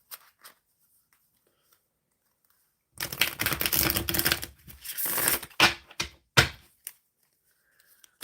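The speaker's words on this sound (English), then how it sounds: "I'm shuffling this deck for the collective for love and romance." A deck of tarot cards is shuffled in a burst of dense riffling and rustling lasting a few seconds, then a run of separate card slaps and taps, all close by with no talking.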